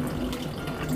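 Water trickles steadily from a manneken pis garden statue into a small backyard pond, a close, continuous splashing stream with no talking.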